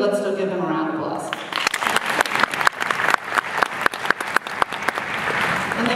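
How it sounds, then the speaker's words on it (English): At a band camp, a voice talks briefly, then an audience bursts into applause with dense, sharp claps close by, building quickly and continuing loudly to the end. "let's still give him a round of applause"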